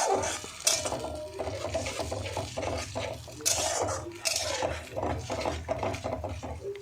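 A metal spoon scraping and knocking in a pan as spice paste fries for Bengali mutton kosha, steady rhythmic stirring clatter with faint sizzle underneath, close and moderately loud.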